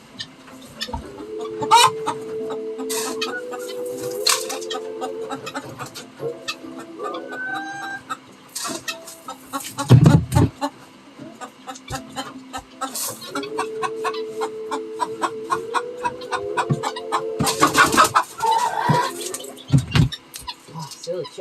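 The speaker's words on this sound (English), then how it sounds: "Oh, silly chickens." Chickens cluck and squawk close by in repeated bursts, with occasional louder calls and rustling among them.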